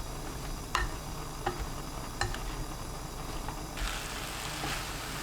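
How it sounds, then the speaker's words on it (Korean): Onion and butterbur stalks stir-fry over high heat, a faint, steady sizzle with a few soft clicks and scrapes of a utensil against the pan, no talking. "5분 후 양파 넣고 센 불로 볶습니다."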